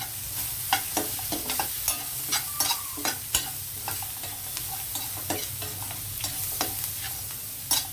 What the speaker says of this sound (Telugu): ఇవన్నీ ఒకసారి కలిపేద్దాం.